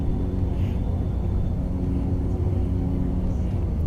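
MU-2 turboprop in X-Plane 11 with reverser engaged on one engine, a steady low rumble and roar holding at constant level with faint higher whine.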